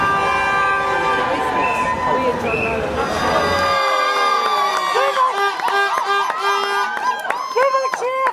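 A protest crowd in Newham, opposing school academisation, cheers loudly in a dense roar that fills the opening seconds, followed by long ringing tonal blasts over lighter crowd noise.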